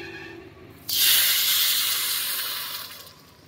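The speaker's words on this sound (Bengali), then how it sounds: "এবার দিয়ে দিচ্ছি জল" Water splashes into boiling sugar syrup for motichur laddu with a sudden loud hissing burst of steam that stays strong and then slowly fades, with no talking.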